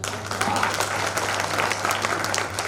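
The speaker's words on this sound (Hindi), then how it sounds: "भोजपुरी के नाम ताली बजाइए।" Brief burst of audience applause at a kavi sammelan poetry gathering, dense clapping from many hands, steady and fairly loud throughout.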